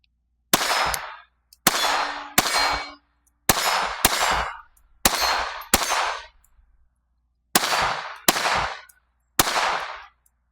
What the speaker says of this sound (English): That is definitely a loud bang.